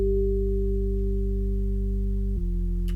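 A synthesizer bass built from stacked oscillators in FL Studio, with another oscillator added an octave up: a steady sustained tone with a low layered body, shifting pitch slightly near the end, alone with no voices.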